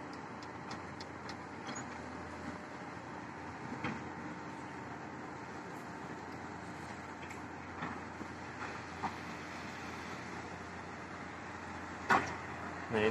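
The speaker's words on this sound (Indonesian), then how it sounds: "Ini proses turun naik penumpang kereta api lokal Bandung Raya." Steady low rumble of a local Bandung Raya commuter train standing at a station in Indonesia, with occasional clicks and clunks over a constant hum.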